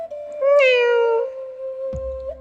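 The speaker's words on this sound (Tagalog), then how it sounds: "Meow." A single drawn-out cat meow, loud and close, followed by a brief low thump.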